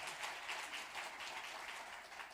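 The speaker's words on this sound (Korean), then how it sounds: "뜨거운 박수로 격려하겠습니다." Warm applause from a church congregation at a Sunday worship service, welcoming a father of a newborn second son; steady, dense clapping fills the room throughout with no break.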